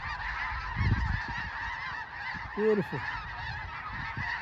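Geese honk in scattered calls from a migrating flock moving overhead at the DeSoto bird sanctuary in Iowa. The honking is fairly distant and sits over a steady background wash, and a brief spoken remark comes in between the calls.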